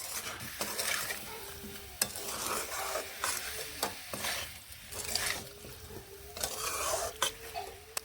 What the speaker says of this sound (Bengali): সবজি সহ মশলাগুলোকে ভালোভাবে কষিয়ে নেব এইভাবে কষিয়ে নিচ্ছি